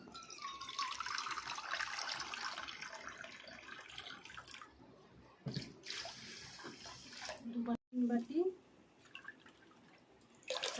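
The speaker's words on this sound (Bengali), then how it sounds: "চিনি দিয়ে দেব এই বাটির মাপে জল দেব এখানে আমি পাঁচ বাটি জল দেবো" Water is poured from a bowl onto sugar in a pot to make syrup, a splashing, gurgling pour that fades, followed by short pauses and brief further splashes and drips, quiet and close.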